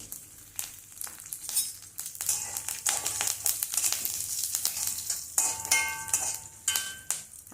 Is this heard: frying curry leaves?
yes